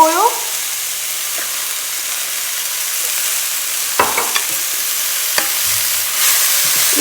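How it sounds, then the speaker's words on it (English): Vegetables fry in hot oil with a steady broad sizzle, broken by a few sharp scraping stirs of a utensil against the pan, close and fairly loud throughout. "Give that a stir."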